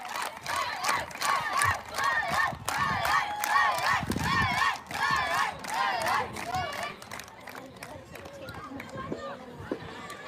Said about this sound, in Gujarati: તાળીઓથી વધાવ્યા બધાએ